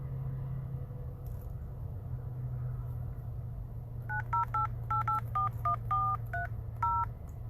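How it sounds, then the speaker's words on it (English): Telephone keypad tones beep in a quick irregular run of about a dozen presses, each short and clear, over a steady low rumble of a phone call or car in the background. "Sean, call my work phone because I'm recording on this phone"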